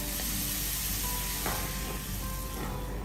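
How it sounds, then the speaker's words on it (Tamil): Curry leaves and dried red chilli tempering poured into Tamil Pongal kuzhambu, a tamarind mixed-vegetable curry, giving a steady close sizzle and hiss with a brief crackle midway and no talk. "அதுக்கப்புறமா கருவேப்பிலை, இந்த தாளிப்பை வந்து இதில் சேர்த்துடலாம்"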